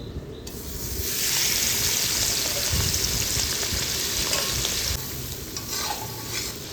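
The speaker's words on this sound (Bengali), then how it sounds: "চিংড়ি মাছ এটাকে এবার আমি ভেজে নেব" Shrimp fried in hot oil while cooking a chicken and shrimp biryani, giving a loud, steady sizzle with crackling spatters that holds for nearly seven seconds, with no talking.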